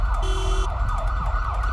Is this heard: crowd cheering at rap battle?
no